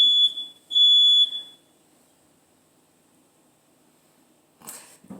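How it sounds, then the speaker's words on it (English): A kitchen smoke alarm blares three loud piercing beeps in quick succession during home cooking, then goes quiet before a faint clatter and rustle at the end. "There's not even smoke and the alarm went off."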